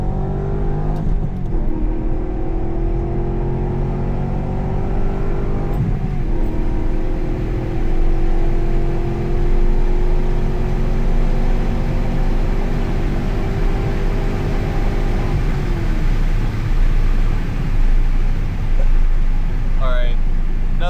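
C5 Corvette driven flat out on a rainy road, its engine droning and rising in pitch through several long pulls, steady and close with wet road noise underneath and a person talking over it.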